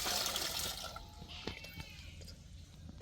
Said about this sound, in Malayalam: നല്ല ചൂടുള്ളതുകൊണ്ട് നമുക്ക് ഇച്ചിരി വെള്ളം കൂടെ മിക്സ് ചെയ്ത്